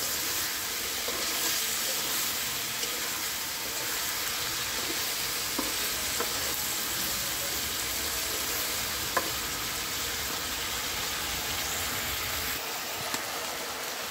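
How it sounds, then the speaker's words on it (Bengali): Spice paste is sautéed in a hot pan with a loud, continuous sizzle and frying hiss that holds steady for the whole stretch, with a few faint clicks of stirring and no voices. "এখন ভালো করে কষিয়ে নিবে মশলাটাকে।"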